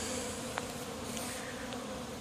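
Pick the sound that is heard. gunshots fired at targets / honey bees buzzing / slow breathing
honey bees buzzing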